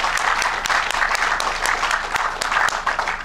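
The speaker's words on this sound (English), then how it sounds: "I think they deserve another round of applause" An audience at a Texas General Land Office press conference gives a round of applause, a dense, even patter of many hands clapping throughout.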